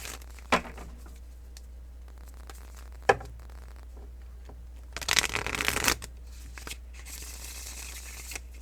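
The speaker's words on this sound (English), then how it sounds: "let's mix up the cards, shuffle" A deck of tarot cards is shuffled nearby, a brisk riffling burst near the end, preceded by a few isolated card taps and clicks in a quiet room.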